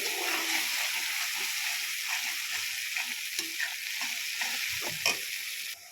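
Elephant apple pieces with turmeric frying in hot oil, a steady broadband sizzle with small crackles and occasional stirring clinks, close and continuous, no voices.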